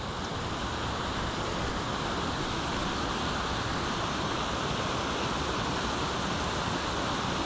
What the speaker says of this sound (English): You can hear the fast moving water a little bit further on.